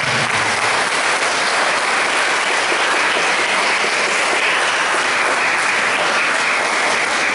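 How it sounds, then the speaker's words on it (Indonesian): A Palm Sunday Mass congregation at Santo Lukas parish in Pemalang breaks into loud, dense, sustained applause, a steady roar of many hands clapping without pause and no talk over it. "kita beri tepuk tangan untuk kita"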